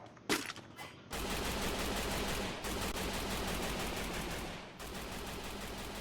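Shotgun fire in a video game match, a couple of sharp bursts at the start followed by a loud, continuous roar of rapid gunfire that dips briefly midway and then carries on, with no voices.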